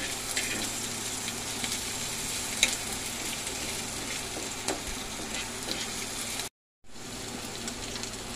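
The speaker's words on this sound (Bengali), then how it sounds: "এবারে পেঁয়াজ দিয়ে দিলাম তেলের মধ্যে, একটু নাড়াচাড়া করে সয়াবিনটা দেব" Chopped onions sizzle steadily in hot oil with a dense, even crackle, broken by occasional soft scrapes of stirring and a brief gap of silence near the end.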